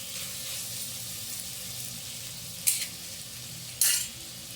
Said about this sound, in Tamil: இப்போது இது நல்லா வதக்கிடுங்க